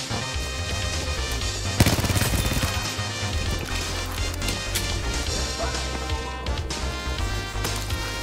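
Dense, continuous gunfire rattles through a busy, loud Battlefield V soundscape, with sharp bursts layered over constant noise and no talking.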